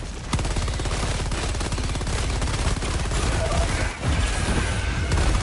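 An HMG emplacement in Helldivers 2, a heavy machine gun firing a long, steady, loud stream of rapid rounds for several seconds with only a brief break near the end.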